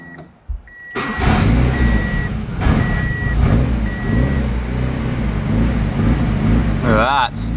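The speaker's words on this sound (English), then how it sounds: "If we give it a little bit of throttle straight off the bat" A Honda Civic engine running too rich, loud and close, with steady rumble under repeated electronic beeps and a brief rising rev at the end while people talk.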